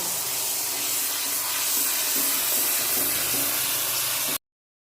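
Spice paste of cumin, coriander and chilli powder with sugar sautéing in hot oil for vegetarian chhana kalia, a steady broadband sizzle that fills the scene without pause, close and fairly loud, with no voices over it.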